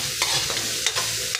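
Garlic and onion sauté in hot oil in a pan, a dense continuous sizzle broken by a few quick stirring scrapes close by, with no talking.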